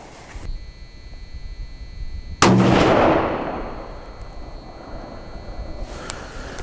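A single sharp rifle shot from a Ruger American Ranch in 5.56 fired during load testing with a max powder charge, a loud close crack followed by a long rolling echo that fades over several seconds outdoors.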